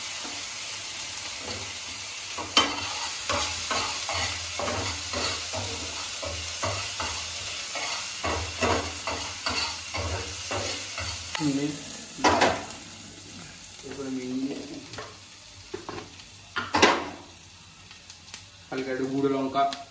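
Ginger-garlic paste with a little water fries in a pan, a steady close sizzle broken by repeated scraping stirs of a spoon against the metal, with a few louder clinks and brief voices toward the end.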